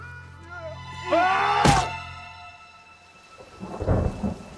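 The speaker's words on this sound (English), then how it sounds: "I awoke to the sound of rain, and the tin roof sang under the torrents" Heavy rain pours on a tin roof during a storm. A sharp crack of thunder stands out near the middle, then rain patters on, with tonal music or voices faintly underneath.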